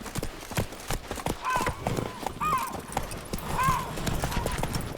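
Horse hooves clip-clopping in The Witcher 3 video game, a steady rhythmic run of close hoofbeats with a few whinnies over a busy game soundscape; a voice talks over it.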